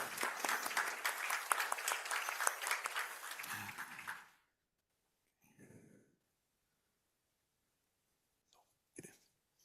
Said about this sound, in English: And give an applause.